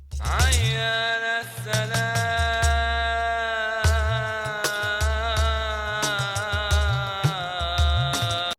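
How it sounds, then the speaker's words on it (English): Talking drum in a metal song, its pitch-bending low strokes sliding up and down in syncopated patterns beneath sustained melodic instruments, loud and without speech. "what you're hearing right now is a talking drum"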